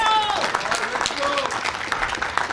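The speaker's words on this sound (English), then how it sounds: "that girl is pretty awesome, so give her a round of applause" An audience at a Route 66 visitor center ribbon-cutting celebration gives a round of applause, dense clapping filling the moment while voices call out over it.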